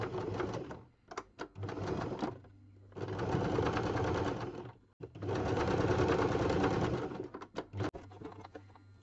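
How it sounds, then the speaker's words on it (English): A sewing machine runs a line of straight stitching across a gel plate print, in close, steady mechanical bursts of rapid needle thumping separated by short pauses and clicks, with no talking. "I'm going to do the line of straight stitching over here at the bottom, trapping those little threads then."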